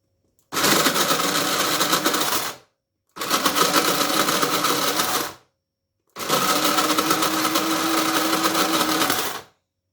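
Dried broad beans being ground into flour in a manual grain mill, three loud sustained bursts of harsh grinding with short silent pauses between them, close and alone.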